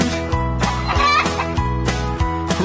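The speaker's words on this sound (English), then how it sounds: "Right, the chickens go as they sit upon their eggs." Chickens cluck and squawk over a bouncy, tonal musical backing in a children's farm-animal song, the fowl sounds repeating in short rhythmic bursts throughout.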